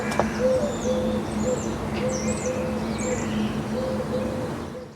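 A bird outdoors near a house repeats the same single hooting note over and over at an even pace, fairly close, with higher chirps from other birds scattered above it.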